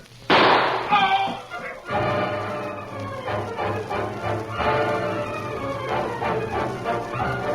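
Gunshot effect in an old-time Lone Ranger western radio drama: a sudden loud burst followed by a brief lull, then busy dramatic music and sound filling the rest.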